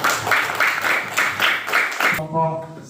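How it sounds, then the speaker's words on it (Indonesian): A classroom group of students gives group 5 a round of applause, brisk rhythmic clapping that stops abruptly after about two seconds, followed by a brief voice. "Tepuk tangan untuk kelompok 5."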